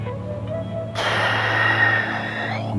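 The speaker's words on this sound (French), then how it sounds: "On inspire juste par la bouche et expirez par la bouche" A close, steady breath through the mouth during a beginner Qi Gong exercise, one long airy inhale-exhale rush lasting a couple of seconds, alone without speech.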